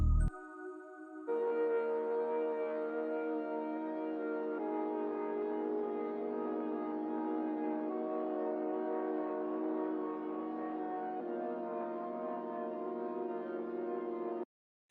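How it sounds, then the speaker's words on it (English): A dark, sustained synth pad, the Lo-Fi Pad preset for Serum by Future Electronica Presets, holds steady layered chords for about thirteen seconds after a short low note, then cuts off abruptly. "serum patch from Splice called Lo-Fi Pad."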